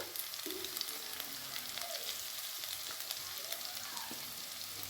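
Ginger, garlic, chili and turmeric fry in a pan with a soft, steady sizzle and light crackle, faint and continuous with no voices.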